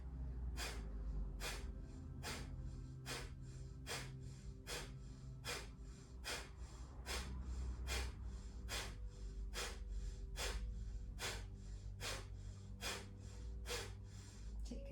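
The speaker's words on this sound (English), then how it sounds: "we're going to start pumping the belly. Forceful exhalation" Forceful yoga exhalations pump the belly in a fast, steady rhythm: about twenty sharp, breathy nasal bursts, close and regular, with no talking.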